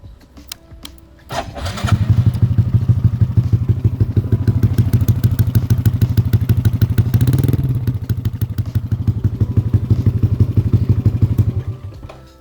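A Yamaha NMAX scooter engine starts up and settles into a loud, steady, pulsing exhaust idle close by, with a brief rev midway before cutting off.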